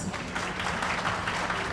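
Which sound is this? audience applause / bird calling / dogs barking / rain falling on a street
audience applause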